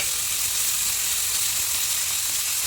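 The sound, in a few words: onions being sautéed in a pan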